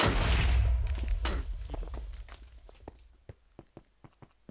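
Gunfire in the Quakecraft video game opens with a loud burst and rumbling echo, then fades into a run of quick, lighter clicks and taps that sound like footsteps.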